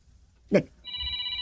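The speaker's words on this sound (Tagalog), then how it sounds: "agre-ring ti cellphone ko" A cellphone starts ringing with a steady, sustained electronic tone in a quiet room, following a brief burst of a voice just before it; moderately loud and close.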